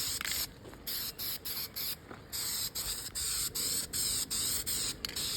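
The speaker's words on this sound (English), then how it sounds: "let's go put another coat of silver on that bracket" Silver spray paint hisses from an aerosol can onto an arcade machine bracket in a rapid run of short, close bursts with brief gaps between them, heard alone outdoors.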